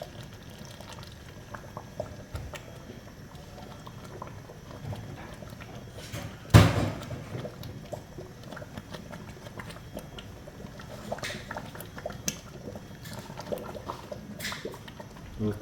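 Chana masala sizzles and bubbles as it sautés in a generous amount of oil in a pot, a steady low crackle with one sharp clatter partway through and faint room noise.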